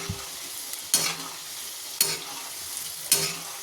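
Wheat-flour and jaggery shankarpali fry in oil with a soft, steady sizzle, and three evenly spaced swishes mark the pieces being gently turned over.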